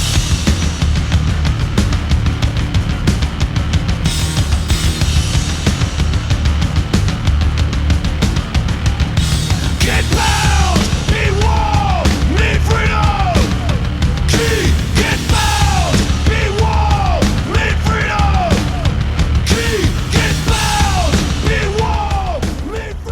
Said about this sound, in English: it's got the best gnarly bass tone, super distorted, great,